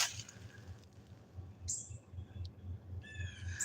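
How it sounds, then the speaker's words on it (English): A few high, thin bird calls chirp faintly in the distance over a low, steady rumbling background. "Listen to the birds."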